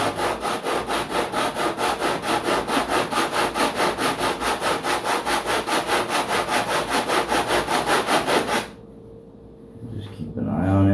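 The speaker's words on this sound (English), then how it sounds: "I'm just gonna go ahead and sand this nice and slowly." A T-bar sander works slowly across the horizontal stabilizer of a giant-scale P-47 Razorback model plane, giving a steady, loud, rhythmic rasp of back-and-forth strokes for about eight seconds before it stops abruptly.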